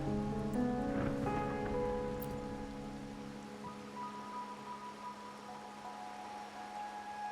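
Steady rain falls in Raguna within Wuthering Waves, a continuous soft hiss with tonal ambient music layered over it, holding fairly even throughout.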